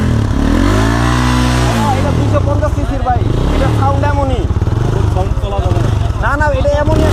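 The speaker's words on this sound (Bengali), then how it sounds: "এটা 250 সিসির বাইক, এটা সাউন্ড এমনই।" A 250cc motorcycle with its stock exhaust idles and revs, the engine note rising and falling in smooth sweeps while people talk close by over it.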